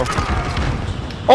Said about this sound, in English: It's an automatic explosive round shotgun.